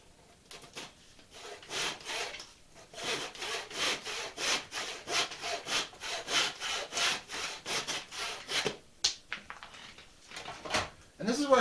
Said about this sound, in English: I think I might go ahead and use a saw to trim the rest of that.